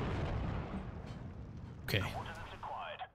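A 152 artillery gun fires in a 4v4 war strategy video game match on the Slutsk map, a deep booming blast amid rumbling battle noise, with someone briefly speaking over it.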